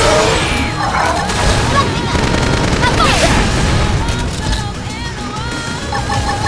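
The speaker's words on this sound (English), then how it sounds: "Cover with some gunfire!" Dense, chaotic battle noise from a final boss fight in Xenoblade Chronicles X with rapid gunfire bursts and booms layered over music and shouting voices, loud and continuous throughout.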